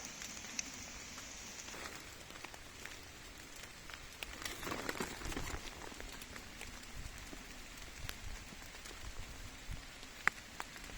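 Soft, steady patter of rain on leaves in a forest with occasional louder drips, quiet and close, with no voices.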